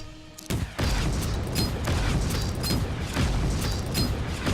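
Sustained bombing explosions rumble in the World of Tanks Generals video game, a dense, continuous barrage of booms with crackling bursts starting after a brief quieter moment, loud and heavy throughout.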